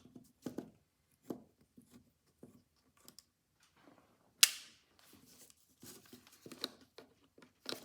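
Small metallic clicks and taps from a screw being undone on an Edison Gem phonograph, sparse and close, with one sharp louder snap midway and quiet handling noise around it.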